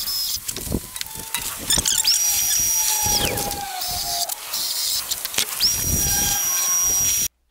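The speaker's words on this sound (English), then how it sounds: "let's go ahead and start drilling." A power drill bores mounting holes for a solar panel installation, its whine rising and falling in two long close passes with bursts of grinding and clatter, loud and without talk.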